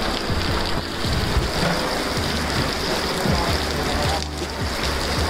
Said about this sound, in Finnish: Siellä vähän sataa.